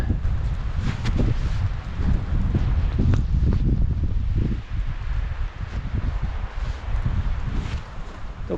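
Gusty wind buffets the microphone outdoors beside a Krpan GP 10 forest trailer from Slovenia, a steady broadband rumble with rustling bursts that surges and eases throughout, no voices present.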